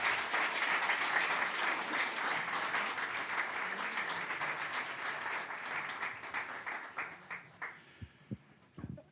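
An audience at a reunion panel discussion applauds to welcome panelists, a dense sustained round of clapping that thins into a few scattered claps before stopping.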